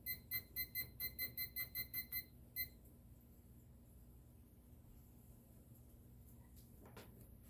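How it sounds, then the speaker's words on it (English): A kitchen temperature gauge, set while heating milk for cottage cheese, gives a quick run of about ten evenly spaced high beeps, then one more beep after a short gap, followed by quiet low room hum. "So I'm just going to set my temperature gauge so it will beep."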